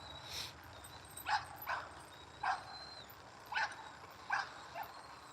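A dog working on a springpole gives a series of sharp, spaced barks, about six evenly paced yips at moderate distance over a quiet outdoor background.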